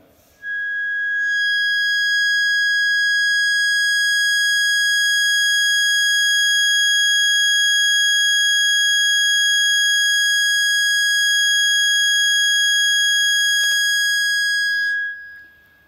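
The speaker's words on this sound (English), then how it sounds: "So instead of a monotone, you'll listen multitones." A distorted demodulated multitone signal: a loud, steady electronic tone built from several stacked pitches drones for about fifteen seconds, harsh and buzzy, then cuts off abruptly.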